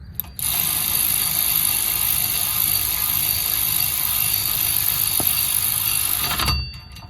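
A tool whirs steadily for several seconds while running down wheel hub assembly bolts on a Buick, Cadillac, Chevy or Oldsmobile, a close continuous mechanical buzz ending with a brief clunk.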